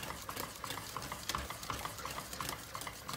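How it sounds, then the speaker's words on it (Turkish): A spoon stirring Turkish arabaşı soup dough in a pot as it boils over medium heat, making a steady rhythmic scraping and sloshing, several strokes per second, close and fairly soft with no voices. "Orta ateşte bunu karıştıra karıştıra kaynatacağız."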